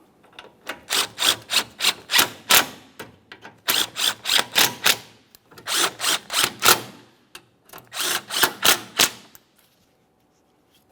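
Radiator mounting bolts on a GMC Acadia are snugged down with a tool, giving four bursts of rapid ratcheting clicks separated by short pauses, close and crisp, with no talk.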